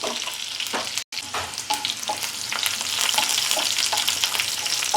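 Oil sizzles and crackles steadily as onions fry for peanut chutney, a dense close-up hiss that cuts out for a split second, then keeps going.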